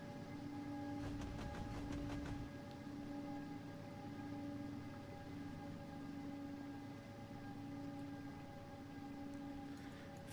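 A diesel locomotive in the Trainz game running at full throttle in notch 8, a sustained droning engine with steady tonal whine, with a short burst of clattering early on, continuous and alone.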